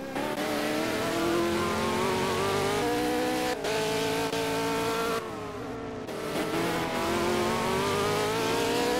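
Race car engine in a V8 racing video game, revving loudly and continuously with rising and falling pitch as the car accelerates, holding a steady roar throughout with a brief dip midway.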